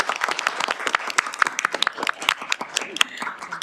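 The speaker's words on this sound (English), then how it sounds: "Let's give her a round of applause." A committee room audience at a legislative session gives a round of applause, a dense stream of moderately loud claps with a few chuckles mixed in, lasting the whole stretch.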